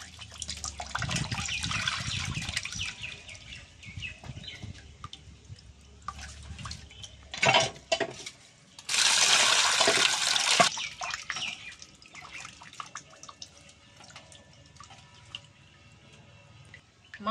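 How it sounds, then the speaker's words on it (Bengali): Prawns rinsed in a bowl of water, intermittent close splashing and dripping with a louder burst of running, gushing water partway through, otherwise quiet. "এবার আমি মাছগুলোকে ধুয়ে নেব। বাটির জলে মাছ দিয়ে দিচ্ছি"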